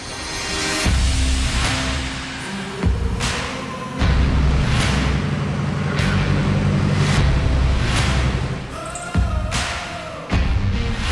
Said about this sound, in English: we got to get the truck inside first